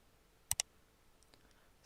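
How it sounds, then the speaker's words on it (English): Two quick, crisp, faint mouse clicks land close together in a quiet room while a New Layer is created in AutoCAD, followed by soft faint ticks. "And now I will click on New Layer."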